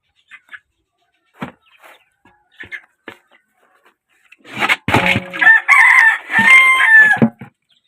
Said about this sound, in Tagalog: pakain sa manok ah